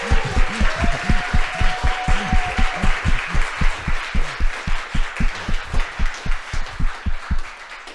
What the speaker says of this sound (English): can we just do a quick round of applause for Jen?